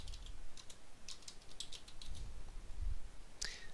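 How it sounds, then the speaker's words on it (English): Keys clicking on a computer keyboard while an author's name is entered, a quick close run of light irregular taps, with no voice over it. "I'll type in the author's name."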